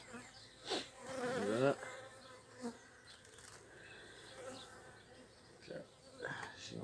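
Honey bees buzz close around a beekeeper's veil during a hive inspection, a steady insect drone with louder swells as individual bees come near, while someone speaks briefly over it.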